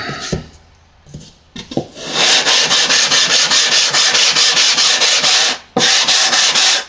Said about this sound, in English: I sanded it up to the line here, so then I'm going to come through the middle.